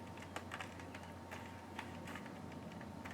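Plastic top casing of a PS2 console being pried off gives a few sharp little clicks and snaps, scattered irregularly over faint background hum, close and quiet.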